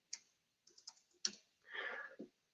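Scattered keystrokes on a computer keyboard, close and crisp, with irregular single clicks and short bursts followed by a longer clattering run of typing and one final tap, no voices.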